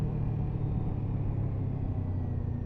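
A Kawasaki Ninja 7 Hybrid motorcycle slows as the rider gears down approaching lights, giving a steady low engine rumble that stays level and close throughout with no voices.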